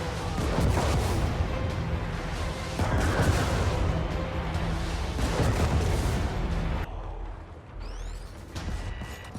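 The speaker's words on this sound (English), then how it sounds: "You can see the barrages are really heavy. It takes everything out in an area." Heavy artillery barrage in the game Helldivers: a dense, continuous roar of blasts and rumbling explosions pounding an area for several seconds, then easing into lighter debris and whistling sounds near the end.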